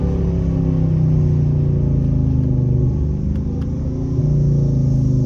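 A Dodge Charger R/T with about 100,000 miles drops a gear while driving, its engine a steady, close, loud low rumble with slight pitch shifts and no talk over it.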